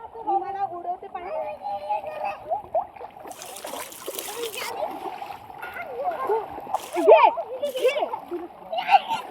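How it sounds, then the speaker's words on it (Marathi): Children splash and play in a river beside a waterfall at Kondeshwar temple, with bursts of splashing water mixed through near, lively children's voices and chatter. "बघा मी मला उडवते पाणी"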